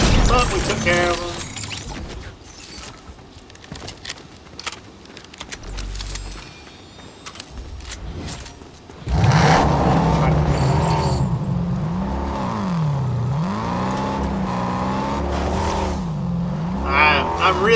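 Car in Fortnite Chapter 5 Season 3 driving through the game world, its engine droning steadily and loudly from the midpoint onward, with rising and falling revs and earlier quieter game noises before it.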